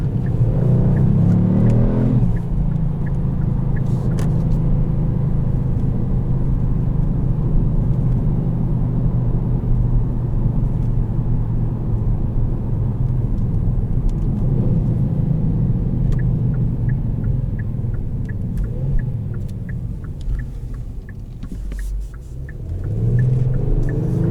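A 2020 Kia Stinger GT accelerates at half throttle, its engine giving a loud, sustained rumbling drone that builds steadily and holds, then eases near the end.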